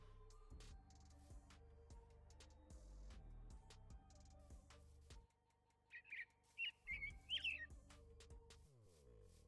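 Robin chirping near a house: a few short, high, faint chirps in a quick cluster, heard through quiet background clicks and low thumps, with no talk over them.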